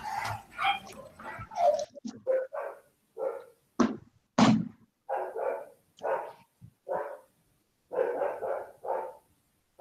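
A dog barking during a lecture, a long series of sharp, fairly close barks and yips in irregular bursts, separated by brief silences, with no talk over them.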